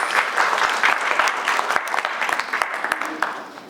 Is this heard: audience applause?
yes